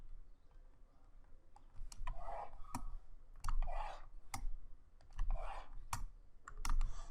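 A computer mouse clicks sharply and sporadically while working in Photoshop, with single crisp clicks scattered among soft rustling handling noise at close range.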